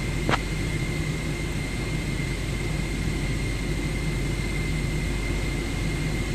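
Airliner jet engine idling steadily after start in Microsoft Flight Simulator 2024, a continuous low rumble with a faint high whine, alone with no talk.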